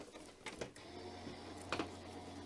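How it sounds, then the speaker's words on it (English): A die cutting machine feeds a card through, with a low steady mechanical hum and whir, soft rhythmic clicks, and a couple of brief louder rattles, all fairly quiet and close. "that die cutting machine."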